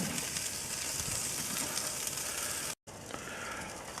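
A ribeye steak sizzles on a Char-Griller Akorn kamado grill, giving a steady close hiss and crackle of fat that runs throughout with a very brief dropout near the end, no voices.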